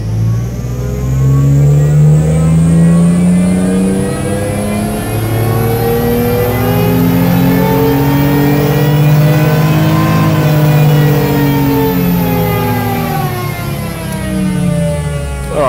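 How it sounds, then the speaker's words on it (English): Car engine held at wide open throttle on a dyno with AEM Infinity tuning, a loud continuous roar climbing steadily in pitch across the run, then easing slightly near the end. "we're sitting at wide open throttle at 1600 RPM on the dyno"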